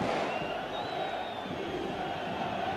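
Trabzonspor supporters roar in celebration after a goal early in the second half against Beşiktaş, a dense, steady stadium crowd noise sustained throughout without break.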